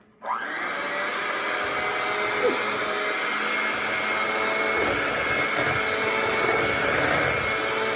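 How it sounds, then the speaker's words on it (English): A steady, loud electric motor whine runs continuously after a sudden start, with a constant hum and no pauses, close by. "Now this is my hand mixer."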